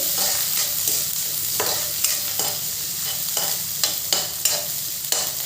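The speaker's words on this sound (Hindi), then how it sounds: "सरसों का तेल गरम हो गया है, इसमें हम ये 1 प्याज काटा हुआ डाल देते हैं।" Chopped onion fries in hot mustard oil, sizzling steadily while a spoon stirs it, with regular scraping strokes against the pan roughly every half second.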